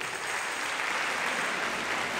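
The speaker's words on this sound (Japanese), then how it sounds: "ちょっと今のお客様の拍手一回真似してみますね。" An audience at a combined school pops concert gives a steady, even burst of applause, a dense wash of clapping at moderate level with no voices over it.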